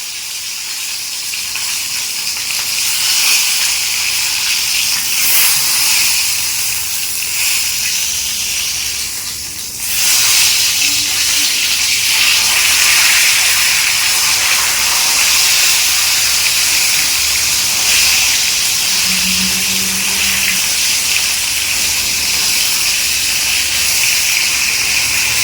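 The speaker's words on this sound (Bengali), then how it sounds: "সরে যা, তেল ছিটকাবে" Hot oil splattering in a pan in a home kitchen, a loud steady hiss with a brief dip near the middle before the sizzle surges back, sustained and close without talk.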